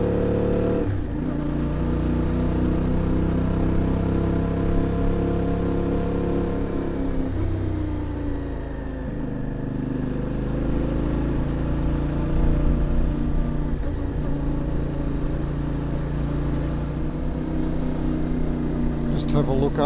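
A CF Moto 450MT motorcycle engine hums steadily as the bike leans through mountain corners in the Southern Alps. The pitch rises and falls with the throttle, with wind noise and a rider talking over it throughout.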